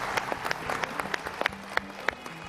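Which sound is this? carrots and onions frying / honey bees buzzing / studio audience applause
studio audience applause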